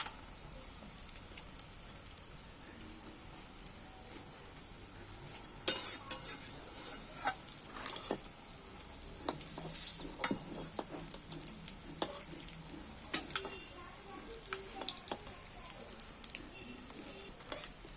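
Eggs fry in a pan over a low gas flame, giving a steady close sizzle with scattered scraping and clinking as the pieces are turned, busier after the first few seconds.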